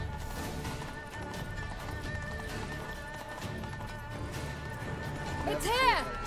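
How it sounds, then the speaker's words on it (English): Horses' hooves clip-clop steadily through a palace in The Witcher 3, a close, rhythmic trotting under shouting voices and music, ending with a loud horse whinny. "Just riding our horses through the palace."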